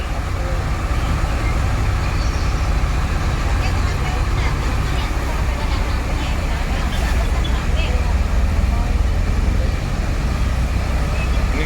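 A new Sinar Jaya Avanti H7 bus in Palembang gives a steady, loud engine rumble and road noise with a constant low drone, and background chatter of voices runs through it.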